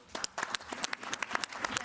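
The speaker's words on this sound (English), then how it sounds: "and applause for everyone." An audience at a parliament forum on ceramics gives brief applause, a quiet, fairly sparse patter of individual claps heard from a distance.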